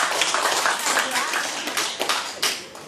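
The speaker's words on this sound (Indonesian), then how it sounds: "Kita berikan aplaus untuk semuanya." Audience applause in a public speaking training session: a dense burst of clapping hands close by, running for about three seconds with a voice heard faintly beneath it.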